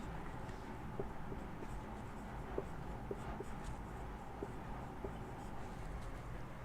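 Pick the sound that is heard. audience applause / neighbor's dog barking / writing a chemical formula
writing a chemical formula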